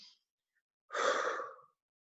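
A voice imitates a young child's jerky, sobbing breathing after crying, a single breathy burst of about a second, close and quiet, alone without talk.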